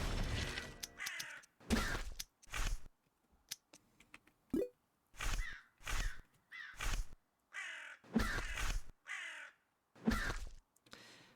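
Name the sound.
crows cawing in a video game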